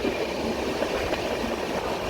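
The Jan Shatabdi train runs near the Parsik tunnel on the Mumbai to Konkan line, heard from inside as a steady loud rumble with faint wheel clatter, no voices.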